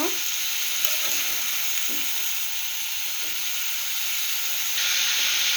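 Bitter gourd and potato fry in a pan over medium heat for a karela bhaji with hilsa roe, giving a loud, steady sizzle with a few spatula scrapes and stirs close by, with no voices.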